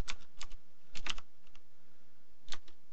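Keystrokes on a computer keyboard as a short command is typed in a quiet room: a few quick taps near 0.1–0.5 s, a denser cluster around 1 s, scattered light taps, then a final pair near 2.5 s.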